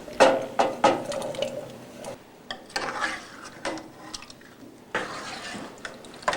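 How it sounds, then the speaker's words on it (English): Potatoes dropped into a stew pot of chicken broth, a few quick thuds and clunks up front followed by softer rubbing, shifting and splashing sounds close by. "Then add the potatoes."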